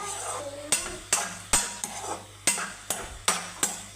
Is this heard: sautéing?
yes